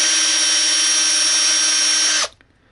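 A hand drill bores a lengthwise hole for the tip of a fishing rod to make a homemade side bite indicator, a steady high whine running loud for about two seconds before cutting off abruptly, with no talking.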